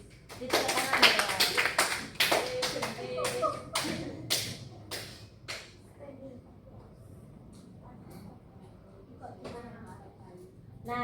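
Students in a chemistry classroom clap for a classmate's correct answer, a burst of close, uneven claps mixed with chatter that thins out after a few seconds into quieter room noise.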